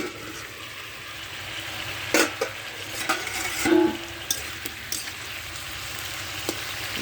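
Fish and potato curry cooking in a pan just after the lid comes off, a steady low sizzle with occasional bubbling pops and light stirring clatter, close and moderately quiet.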